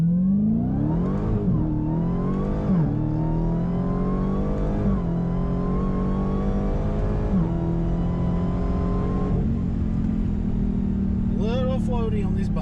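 A 2021 Dodge Challenger Super Stock accelerates hard at full throttle from inside the cabin, the engine's roar climbing through repeated rising sweeps with short dips at each gear change, and a voice briefly talks near the end.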